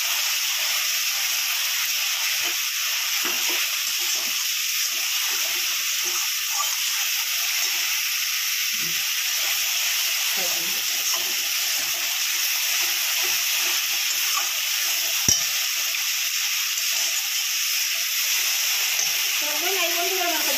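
Spices and Kashmiri chilli being fried down in a pan, a steady, even hiss of sizzling oil throughout with faint stirring sounds and a single sharp knock.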